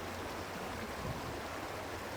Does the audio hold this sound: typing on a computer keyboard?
no